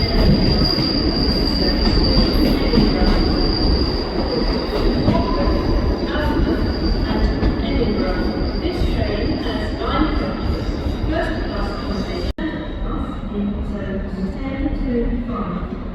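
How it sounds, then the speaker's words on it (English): Northern unit 156482 pulls into Newcastle station on a Whitby-bound service, wheels squealing loudly and continuously with a steady rumble of rail cars, and a voice speaking over the noise. "And arriving in as well is the Northern service bound for Whitby, with 156482 on the front."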